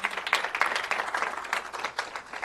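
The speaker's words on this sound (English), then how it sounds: "Let's give a round of applause." Church youth conference audience applauding after a session speaker, a continuous, moderately loud patter of many hands clapping for a couple of seconds.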